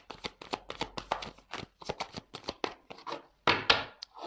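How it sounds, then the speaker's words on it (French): Tarot cards being shuffled and handled in steady rapid bursts, close and crisp, with a brief pause near the end before a louder riffle; no one speaks. "Je finis, je prends deux cartes."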